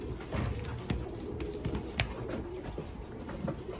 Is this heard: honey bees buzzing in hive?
no